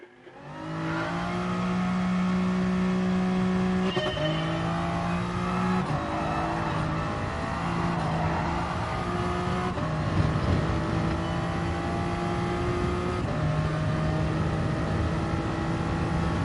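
A race car engine lapping a track in GT Sport, droning steadily at high revs with sustained tonal whine, pitch stepping up and down through gear changes every few seconds, close and continuous with no talk.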